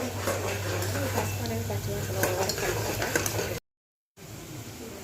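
Turmeric and oil sizzle steadily in a pot while bagara rice is being cooked, a loud continuous hiss with a low hum beneath it, cut by a brief silent gap before the sizzling resumes.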